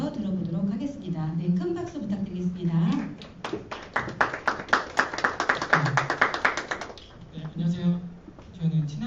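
Audience clapping for a speaker at a social enterprise forum, a short burst of quick claps rising in the middle, between stretches of talk.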